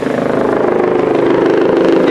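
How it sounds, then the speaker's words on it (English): Loud, steady rotor thumping of a helicopter with a pulsing rhythm, close and continuous throughout. "It's a helicopter!"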